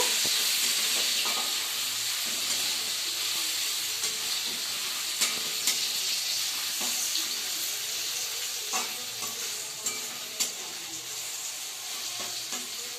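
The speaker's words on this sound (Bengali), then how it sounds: "এর মধ্যে আদা কুচি দিয়ে এবার একটু নাড়িয়ে নেব" Chopped ginger fries and is stirred in a pan for egg tadka dal, a steady hissing sizzle punctuated by occasional light clicks of the spatula against the pan.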